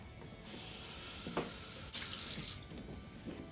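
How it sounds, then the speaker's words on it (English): A Cricut cutting mat is rinsed under a running kitchen sink tap, a close, steady rush of water with splashy bursts as the stream strikes the mat's surface. "I'm going to rinse this one off."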